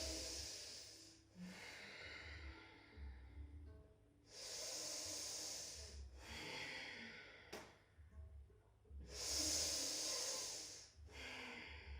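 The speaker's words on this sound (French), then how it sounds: "3 respirations complètes" Slow, deep yoga breaths during a vinyasa practice: long hissing inhales and exhales alternate in a steady rhythm, close and soft, with quiet pauses between breaths.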